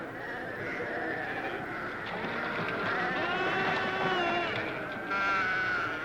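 A flock of sheep out on open rangeland bleats steadily, many overlapping calls forming a continuous chorus with no pauses.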